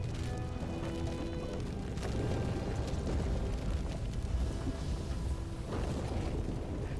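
A house burns in the video game The Midnight Walk, giving a dense, steady roar and crackle of fire with low rumbling, loud and continuous for the whole stretch.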